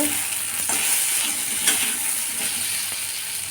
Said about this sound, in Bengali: আলুগুলো ভেজে নেব। তো দেখো বন্ধুরা আলুটা ভাজা হয়ে গেছে।